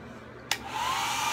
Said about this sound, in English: I'm turning it on low so she can watch me.